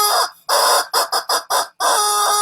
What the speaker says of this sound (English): Trump Chicken is coming to weigh in on this story